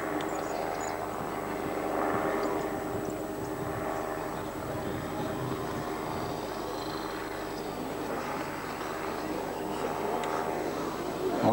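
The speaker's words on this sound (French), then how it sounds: "L'avion ne vole plus, il est uniquement tenu par son moteur, par son hélice" A model airplane's small propeller engine drones steadily overhead, its pitch wavering slightly as it hovers on its propeller, with faint voices murmuring in the background.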